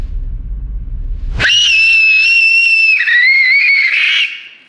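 A child screams loudly and continuously at a very high pitch, trying to break a glass, the shrill sustained cry lasting several seconds after a quiet start with low background rumble.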